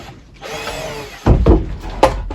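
Power drill driving a screw into the wooden frame of a goose enclosure: a whirring run of about a second, then two short louder bursts of drilling close by, with no voices.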